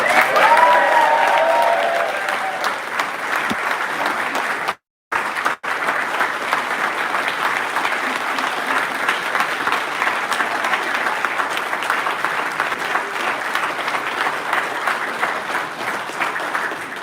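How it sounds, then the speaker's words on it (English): A rally audience applauds the leader of Advance UK in Manchester: steady, dense crowd clapping that runs for the whole stretch, with a brief dropout partway through and no talk over it. "A big round of applause to the leader of Advance UK, Ben Habib."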